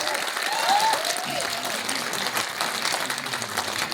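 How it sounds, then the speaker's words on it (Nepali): A crowd at a Nepali movie premiere applauds loudly and continuously, a dense, close clapping with a few cheering voices and a whistle rising over it. "अलि ठुलो ताली।"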